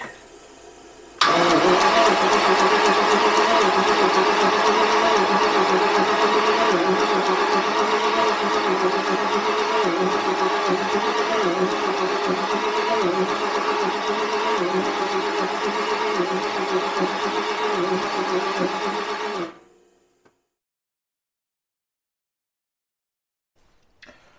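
Abandoned Jaguar V12 engine cranking continuously for about eighteen seconds, a loud, even, rapid starter churn close by that never catches, then cuts off abruptly into silence.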